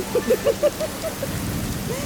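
Rain falls steadily during a storm, a continuous wash of drops with a few brief tonal blips early on, under faint background voices.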